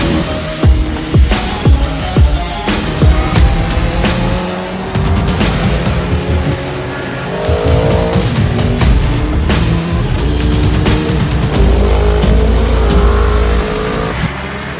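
Motorbikes lapping a track day at Cadwell Park roar past in loud, repeated passes, engines revving and shifting through gears, the sound rising and falling continuously with no talk.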